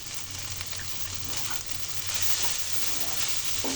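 Okra frying in a pan with shrimp, giving a steady, dense sizzle close by with faint stirring scrapes underneath and no voices.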